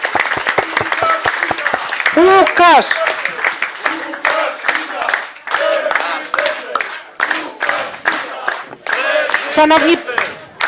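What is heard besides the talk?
applause and cheering crowd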